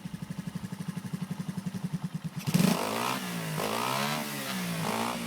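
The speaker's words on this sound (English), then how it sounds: "Here's an old recording of my Honda SS100 running in my garden." A homemade 100cc Honda SS100 V-twin motorcycle engine, built in 1999, chugs at an even idle pulse in a garden, then revs up sharply into a loud, smooth, rising and falling wail that stays free-revving to the end.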